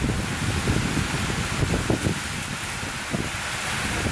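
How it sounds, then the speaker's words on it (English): A hard-hitting storm with strong wind gusts and heavy rain roars as a dense, steady wash of noise, loud and continuous, with brief gust-like swells throughout. "the storm hit hard"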